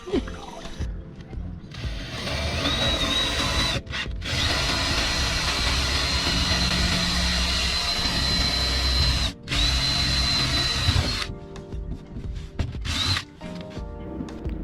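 A power drill runs loud and close, grinding almost continuously, with a couple of brief stops and shorter bursts toward the end, drilling on a boat in a marina. Faint voices sit underneath.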